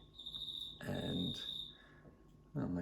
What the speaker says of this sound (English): oh, my cricket friend's back.